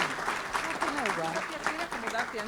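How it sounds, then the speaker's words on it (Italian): Encouraging applause from an audience at a gathering of cancer survivors, clapping that runs under an overlapping voice speaking throughout. "l'applauso di incoraggiamento ci va benissimo"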